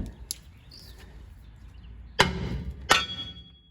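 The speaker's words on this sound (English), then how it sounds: "This backing plate should come loose with some help from a hammer" A hammer strikes a brake backing plate on a Ford Ranger during a disc brake conversion, two sharp metallic blows about a second apart after a quiet stretch, close and loud.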